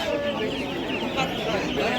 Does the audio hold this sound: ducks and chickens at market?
yes